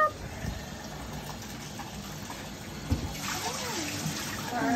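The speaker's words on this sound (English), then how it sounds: "Hey guys, I'm giving my dog a bath." A dog is bathed at home with water running steadily from a tap into a tub, a continuous hiss and splash throughout, close and moderately loud, with no speech.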